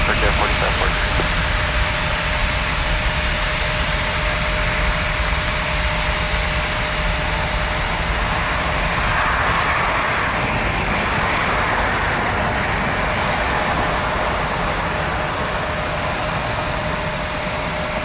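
A broad, steady roar of aircraft engines warming up at Toronto Pearson airport fills the whole stretch, loud and continuous, with a faint tonal hum running through it and no change in level.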